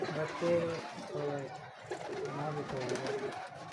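A breeder's pigeon coos in repeated low, bubbling phrases close to the microphone, several rolling calls in steady succession with a voice talking faintly underneath.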